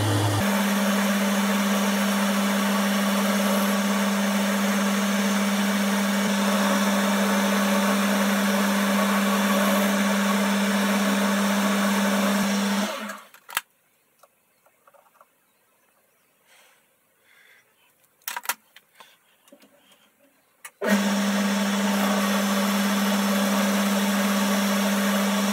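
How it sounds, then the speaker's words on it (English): A metal lathe turns silver steel rod down to 5 mm with a steady, loud motor whine that cuts out to near silence partway through, then starts up again. "I've just put a piece of silver steel in the lathe."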